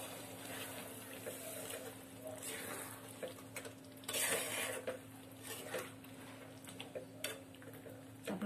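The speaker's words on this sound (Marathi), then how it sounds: "आता आपण थोडं पाणी टाकून घेऊयात" Water poured into a pan of frying egg masala for egg curry brings up a steady, fairly quiet sizzle and bubbling, with a few clinks of a utensil against the pan and a brief louder burst midway.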